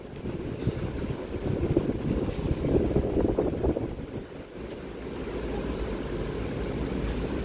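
Strong typhoon wind during Signal No. 10 Typhoon Ragasa in Hong Kong at night, a steady loud roar with gusts that swell and ease, heard alone without voices.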